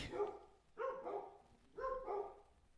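Dogs barking inside a house, three short bursts of barks and yips spaced about a second apart, fairly faint and a little distant.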